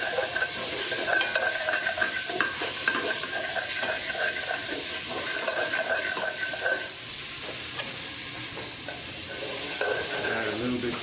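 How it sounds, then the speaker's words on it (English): Pancetta and chorizo sizzle loudly in hot oil in a pan, a steady bright crackle and hiss that goes on continuously, with a few stirring scrapes along the way. "get a nice sizzling and aroma coming out of that"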